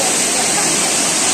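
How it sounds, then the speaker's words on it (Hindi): Tirathgarh waterfall on a river in Bastar, a loud, dense, continuous rush of falling water heard close by, with no clear voices. "तो अब बात करते हैं इस तीरथगढ़ इस वाटरफॉल की।"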